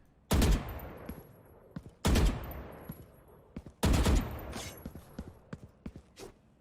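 Three loud, close bursts of rapid automatic gunfire from target practice at a spot in Valorant, each volley sharp then trailing off, followed by fainter scattered shots.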